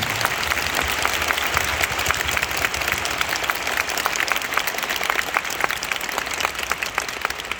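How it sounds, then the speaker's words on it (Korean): A large audience at a concert encore applauds steadily, dense clapping filling the whole stretch at an even, sustained level with no voices standing out. "여러분 큰 박수 한 번만 부탁드립니다"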